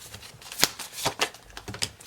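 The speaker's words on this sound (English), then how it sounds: "I'm going to keep shuffling" Tarot cards are shuffled close up in quick, crisp bursts of riffling and sliding, with a few sharper snaps at irregular intervals. No one talks.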